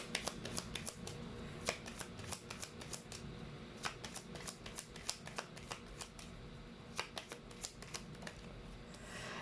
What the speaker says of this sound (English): Let's pull up 3 cards here.